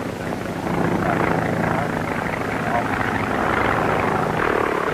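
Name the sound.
1920s experimental circular-wing 'flying umbrella' aircraft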